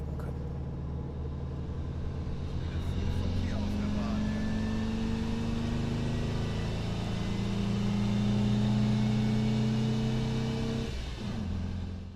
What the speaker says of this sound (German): Der Wagen zieht herrlich durch und erreicht also relativ schnell die 120.